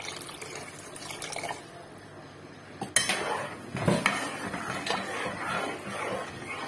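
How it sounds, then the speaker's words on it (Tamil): Water is poured into a cooking vessel over jaggery while making athirasam for Diwali. A few light clinks of the pot come first, then a close, splashing pour that swells and continues to the end, with no talk. "அது முழுகிற அளவுக்கு தண்ணி ஊற்றிக்கிறேன்."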